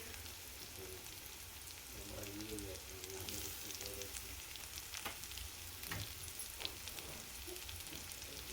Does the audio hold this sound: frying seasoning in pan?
yes